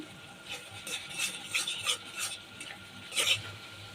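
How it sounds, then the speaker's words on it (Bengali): Repeated scraping strokes of a spatula against a pan, irregular rhythm, close and moderately quiet, with a faint sizzle beneath of chili, coriander powder and salt being fried. "মশলাটা ভালো করে কষিয়ে নিয়েছি"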